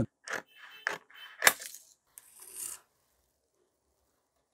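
Scissors cut blouse fabric along a marked shape in a quiet room, with several short, crisp snips and rasping slices close up, followed by silence.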